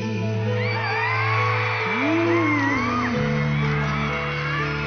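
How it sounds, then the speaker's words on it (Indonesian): A concert crowd of fans screams and whoops loudly and continuously over amplified live music, with high shrieking voices rising and falling throughout. "yang nging ternyata teriakannya fans"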